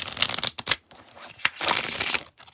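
A small deck of playing cards is shuffled close up in several quick, crisp riffling bursts separated by brief pauses.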